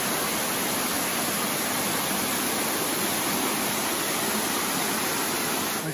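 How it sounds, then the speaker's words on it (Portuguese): Cachoeira das Lontras waterfall in Penedo, Brazil, a loud, constant broadband roar of falling water filling the whole clip without variation, heard close and alone. "Aqui, gente, a vista lateral da cachoeira."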